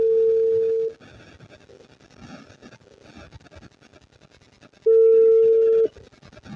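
Telephone ringback tone on an unanswered outgoing call: two long steady rings, one at the start and one near the end, with faint room noise between them.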